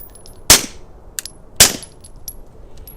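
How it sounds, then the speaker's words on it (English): Two suppressed 9mm shots from a SIG P365 fitted with an OSS RAD 45 suppressor ring out about a second apart, sharp and close, with light metallic tinkles of falling casings between and after them. "Let's see how that 9mm sounds through a 45 ACP suppressor."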